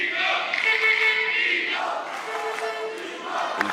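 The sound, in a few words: home crowd at table tennis match in Europe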